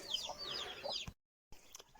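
Farm chickens cluck as they are released at feeding time, a close cluster of soft clucks and calls that cuts out briefly, then a few quieter clucks return.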